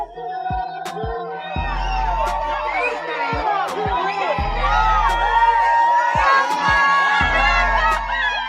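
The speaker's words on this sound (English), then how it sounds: "Thousands of people crowd the streets, their cheers booming across downtown Omaha" A large crowd cheers and whoops in the streets of downtown Omaha for boxer Terence Crawford, a steady roar of voices with sharp bursts and shouts rising over a continuous babble.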